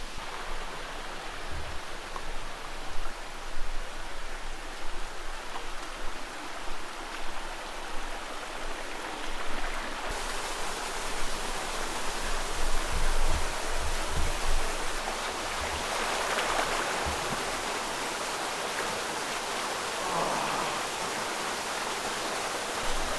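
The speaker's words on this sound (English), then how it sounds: "You can see the waterfall up there." Rushing water from a waterfall and stream in the Ouachita Mountains of Arkansas, a steady broadband roar that grows fuller midway, with faint shifting splashes and no talk.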